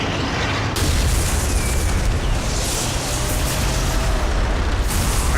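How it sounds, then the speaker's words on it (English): Artillery shells explode in a World War II battle in Call of Duty: World at War, a dense, continuous rumble of booms and blasts filling the scene, with a sharp surge after the first second and constant low-end roar throughout. "Artillery fire imminent, sir."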